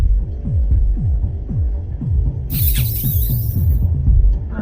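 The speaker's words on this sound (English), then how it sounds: "That is supposed to be the sound of rats." Rats in a grimy cyberpunk slum city within a video game, heard as a steady low throbbing hum with repeated squeaky chirps, and a brief hissing burst partway through.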